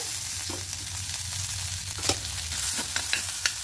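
Dried chillies, a torn bay leaf, asafoetida and grated ginger sputter in hot oil, a dense continuous sizzle close by with scattered pops and scrapes of stirring, and no voices.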